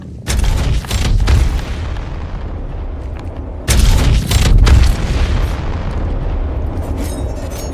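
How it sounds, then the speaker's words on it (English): Two heavy booms of cannon fire, each with a couple of quick blasts followed by a long rumbling decay; loud and close. "I'm gonna take this cannon right here"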